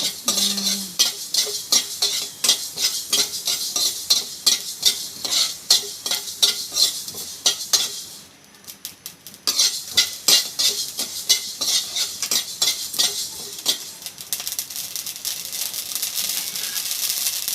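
Mustard seeds crackle and pop while dry-roasting in a pan, with rapid irregular bursts of ticking alongside repeated stirring scrapes, briefly pausing midway before resuming.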